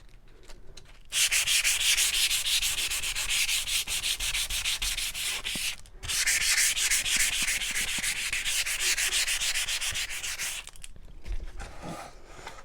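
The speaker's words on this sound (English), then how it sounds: "I'm sanding pretty heavy" Coarse sandpaper is scrubbed hard back and forth across a painted wooden shiplap platter, a loud, rapid rasping that runs continuously, breaks briefly once, then resumes before tapering off.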